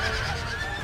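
Horses whinny amid the din of an Empire: Total War battle as Huron horse warriors and a chief's bodyguard charge an infantry square, a high neigh riding over a dense, loud rumble of combat noise.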